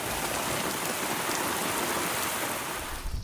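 Heavy rain pours down during a violent storm at Trocadéro square in Paris, a loud, dense, steady hiss that fills the whole stretch and thins slightly at the end.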